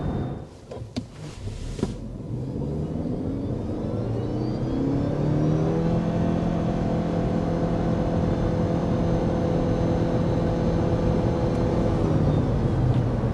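A 2026 Nissan Rogue plug-in hybrid SUV accelerates hard to 60 mph in automatic mode, with a rising engine and motor whine that climbs steadily in pitch and holds loud, close by, after a couple of brief knocks.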